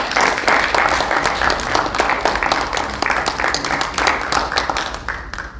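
Audience applause at an award ceremony for the Unam Patriot Award, a dense, steady wash of many hands clapping close and loud throughout, easing slightly at the very end.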